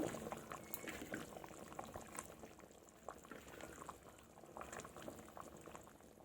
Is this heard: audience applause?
no